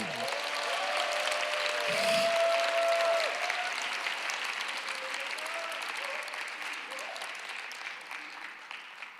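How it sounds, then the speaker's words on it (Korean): A church congregation gives the worship team a long round of applause. The clapping is dense and steady, with crowd voices and a brief tone mixed in near the start, and it slowly tapers over about nine seconds. "우리 찬양팀 수고하는데 큰 박수."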